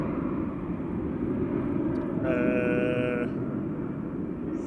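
An Airbus A320 Classic departs Manchester Airport for Corfu, its engine roar a steady loud broadband drone with a brief tonal whine partway through.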